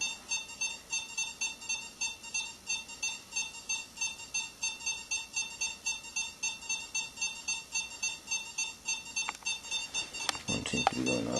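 Paranormal detectors in a supposedly haunted hotel in Bisbee, Arizona beep in a steady, rapid repeating pattern, several units sounding together, ending with a few knocks and handling noises.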